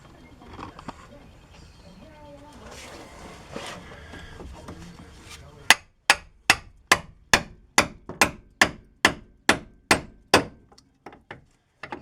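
Repeated loud metal hammer blows strike a 2007 Chevrolet Silverado/Avalanche suspension to separate the upper ball joint, a steady series of about fifteen sharp close impacts following a stretch of workshop noise and talk.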